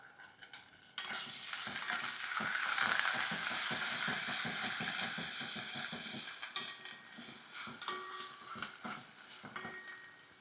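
Curry leaves frying in a pan with garlic and ginger: a loud, bright sizzle bursts in after a second, then crackles on steadily with quick stirring scrapes and fades slightly toward the end, no talking.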